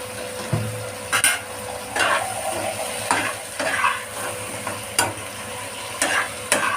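Tomato paste and bottle gourd are stir-fried in a pan for Bengali masoor dal, giving a steady close sizzle broken by repeated scraping strokes of a spatula about once a second.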